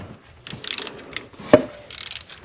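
A ratchet tightens a spark plug on a Mercedes E350 3.5L engine, with soft clicking pawl sounds in short bursts and one sharper metallic tick, close up and fairly quiet.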